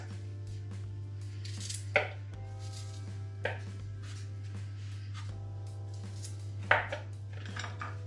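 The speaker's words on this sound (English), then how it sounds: "Take this garlic I chop it two, three, like this." Garlic being chopped for a lamb rib dish, a few sharp knife strikes on a cutting board spaced irregularly over a steady low hum, with faint kitchen clatter between cuts and no talking.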